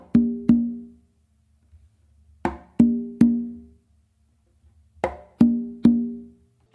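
Conga pattern played three times in an even rhythm: a sharp dominant-hand slap on the main drum, then two ringing open tones on the tumba from the non-dominant hand. Each hit is close, clear and decays quickly, with short silences between groups.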